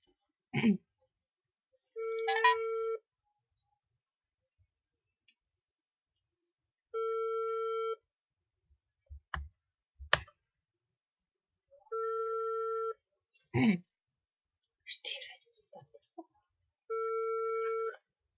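Telephone ringback tone heard while calling an OLX seller: repeated long, steady beeps separated by silent gaps, interrupted by clicks and faint bursts of other line noise, with no talking.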